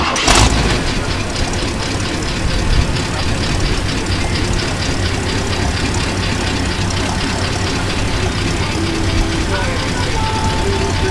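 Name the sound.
pickup truck engine idling with quiet exhaust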